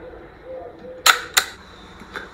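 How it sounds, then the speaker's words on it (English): A Plaubel Makina folding medium-format film camera fires its shutter, giving two crisp mechanical clicks about a third of a second apart, close and clear, followed by a faint softer click. "And this is the shutter."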